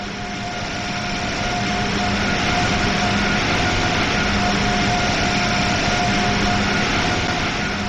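An Amtrak Acela Express high-speed train in the Train Sim World 3 game runs steadily, its loud, constant rumble and rolling drone joined by a faint electric whine, unbroken and close throughout.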